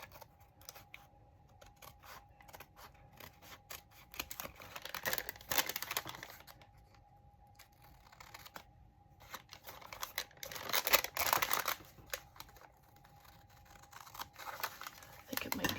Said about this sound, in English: You can tear it off, cut it off, use your ruler.